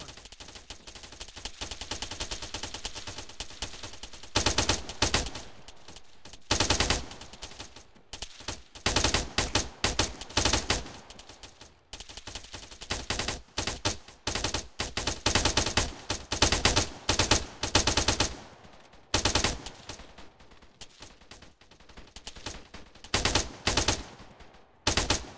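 Machine gun fire in the military game Arma comes in repeated sustained bursts of rapid, loud, close shots separated by brief pauses, running across a long stretch of continuous combat.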